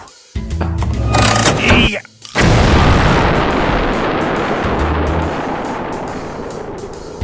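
A loud, booming cartoon explosion blasts open a bank safe after a brief pause, decaying into a long roaring rumble, preceded by clattering noise.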